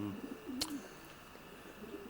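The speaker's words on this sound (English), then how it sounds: "This is Fred's winning pigeon" A racing pigeon at a Guernsey pigeon race event gives a single short coo, close and fairly soft, over low background noise.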